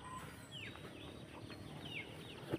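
Chicken chicks on an organic farm peep faintly in short high chirps against quiet outdoor background, ending with a sudden loud knock close by.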